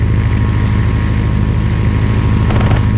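Spitfire fighter in the Aces High flight game, a loud steady propeller-engine drone holding close and constant throughout with no voices.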